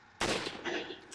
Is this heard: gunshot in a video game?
yes